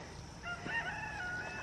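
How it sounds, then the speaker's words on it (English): A small, ill-tempered rooster crows once in a garden, a fairly close, bright cock-a-doodle-doo that rises and holds for about a second over light outdoor background noise, with no talk. "here comes little mean rooster"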